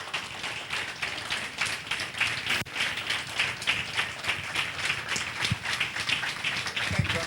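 Audience at a community speaking event clapping hands, a moderate, sustained patter of many claps with steady rhythm, heard from a short distance.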